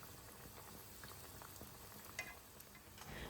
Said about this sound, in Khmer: ក្នុងការចៀននំនេះបងប្អូនកុំបង្ខំភ្លើងយើងប្រើភ្លើងមធ្យមទៅទើបវាឆ្អិនដល់ក្នុង